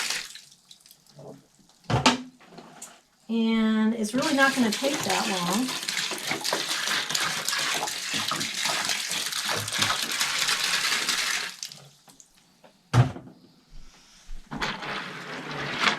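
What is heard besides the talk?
water pouring into sawdust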